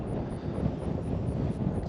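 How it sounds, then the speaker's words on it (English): Strong wind buffeting the microphone beside a fishing pond, a dense continuous low roar with gusty swells throughout, no talking. "This wind though is getting brutal."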